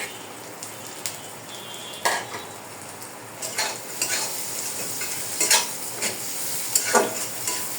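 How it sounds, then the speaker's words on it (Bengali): Onions, green chillies and chopped garlic stir-fried in a pan for pat shak, a steady sizzle under repeated scraping strokes of a spatula, close and fairly loud, with no talking. "এটা দিয়ে তো ভাজা ভাজা করতে হবে।"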